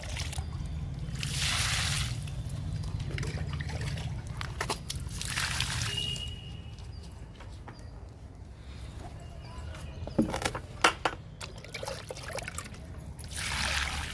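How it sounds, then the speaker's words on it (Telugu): Water poured onto garden plants, soft trickling and splashing in a few separate bursts over a low steady background hum, close by and fairly quiet. "మన మొక్కలన్నిటికీ వాటర్ ఇస్తున్నానండి."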